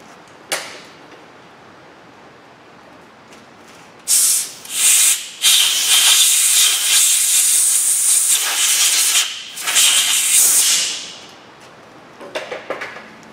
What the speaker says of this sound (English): I got to blow some compressed air in there. So let me blow those shavings out.